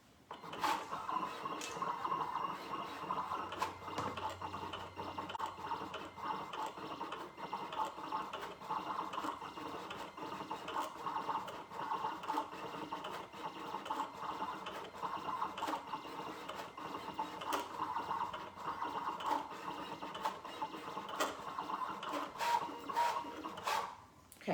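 A Siser Juliet vinyl cutting machine at work, giving a continuous quiet mechanical whir broken by frequent sharp clicks and brief bursts as the blade carriage moves. No voices are heard over it.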